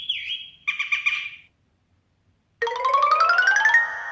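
The "glow bird" notification tone on a ZTE Axon 7 Mini phone plays loud and close: a short synthetic warble, a brief burst of twittering chirps, a pause, then a longer rising run of rapid bird-like chirps.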